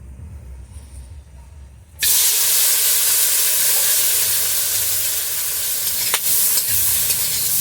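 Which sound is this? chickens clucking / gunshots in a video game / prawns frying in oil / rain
prawns frying in oil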